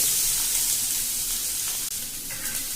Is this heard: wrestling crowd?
no